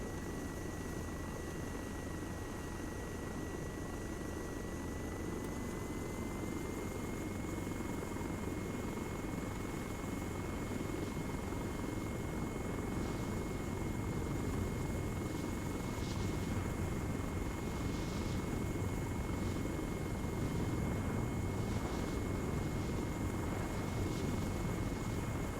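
An Mi-8 helicopter flies in the modded Arma 3 game, a steady loud rotor and turbine drone with a constant whine running unbroken for the whole stretch, no voices over it.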